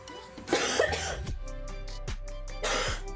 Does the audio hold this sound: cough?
yes